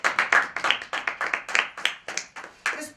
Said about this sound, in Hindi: जोरदार तालियां इस प्लेटफॉर्म के लिए।